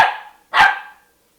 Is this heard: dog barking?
yes